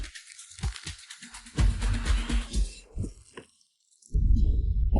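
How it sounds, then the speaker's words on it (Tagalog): Heartbeat slowing and weakening, with a few low, soft thumps near the start, then a louder stretch of music and other sound, a brief silence, and a loud swell at the end. "Humihina ang tibok ng puso niya."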